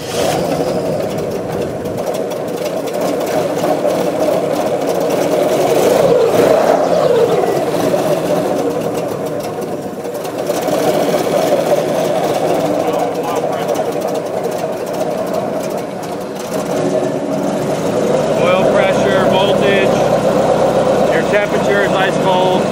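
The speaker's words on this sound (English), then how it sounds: "It's an ice cold start." A 2002 Diamondback airboat's V6 engine turns over from cold and settles into a loud, steady idle with slight wavering, with a higher chattering layer near the end; a person talks over it at times.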